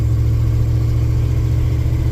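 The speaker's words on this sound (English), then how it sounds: "Now you can hear the engine a little bit." A Honda K20 engine fitted with new mufflers idles steadily close up, a continuous low hum with no one speaking.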